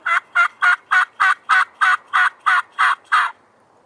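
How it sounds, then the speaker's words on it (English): A wild turkey gobbles in a rapid run of about eleven loud, evenly spaced bursts, close and clear, then stops. "we've got one gobbling his head off"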